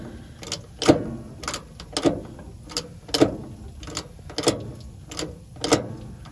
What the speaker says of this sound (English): as you pump this up, you want to see that sliding from there